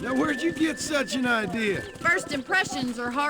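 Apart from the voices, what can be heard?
None of the usual background noises is heard.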